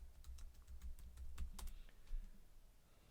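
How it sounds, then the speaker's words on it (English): Quiet, close clatter of a computer keyboard typing a search query, a quick run of keystrokes with a brief pause, alone with no talking. "all I have to do is just type in something I want"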